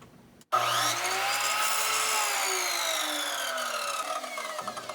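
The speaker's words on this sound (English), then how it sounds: "the Evolution Rage 4 chop saw with a multi-material cutting blade, which allows her to cut the white edge of the spring" An Evolution Rage 4 chop saw with a multi-material blade bites into the white edge of an Easy Spring Plus, starting with a sudden loud whine that holds steady and slowly drops in pitch as it cuts, then winds down.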